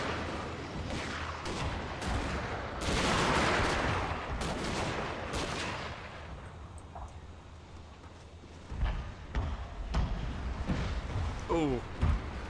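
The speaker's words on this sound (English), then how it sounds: "Pretty much the same thing here, just an archer duel versus rifles." In a Shogun 2 Total War battle, rifle volleys crack in dense bursts against a rumbling battle din while someone talks over the action; later shots come in scattered, sharper pops.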